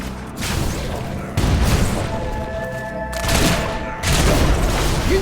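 Gunfire and heavy booming blasts in a battle scene from the video game Fable III, loud bursts separated by short gaps with some mechanical clatter, no voices over it.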